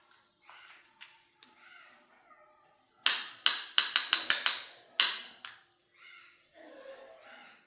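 A homemade face pack is stirred and mixed, with a quick burst of sharp, rapid clicking taps in the middle. Softer, quieter scraping comes before and after the burst.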